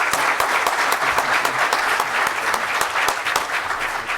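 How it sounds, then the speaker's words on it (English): An audience at an engineering careers panel event gives the panelists a round of applause, a full, even burst of clapping that stays loud and steady throughout. "let's give a round of applause to our panelists."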